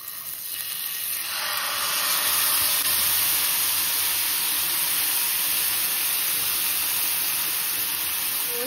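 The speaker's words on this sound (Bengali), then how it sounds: "এই দিয়ে দিই মাছটা, তেলটাও গরম হয়ে গেছে।" Fish dropped into a pan of hot oil, only a small amount of oil; after a quiet first second a loud, even sizzle rises and holds steady on its own.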